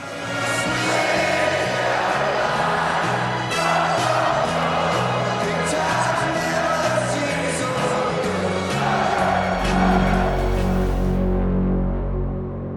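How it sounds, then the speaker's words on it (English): A huge racecourse crowd sings together as runners are led onto the track before the Everest, a loud sustained mass of voices swelling and falling before a sudden cut to low rumble. "the huge crowd broke into song"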